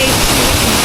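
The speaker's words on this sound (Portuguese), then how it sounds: "Que tal essa cachoeira? Incrível, gente." A waterfall in a municipal park in Panelas, Pernambuco, Brazil, roars as a loud, steady broadband rush of falling water, close and continuous with no break.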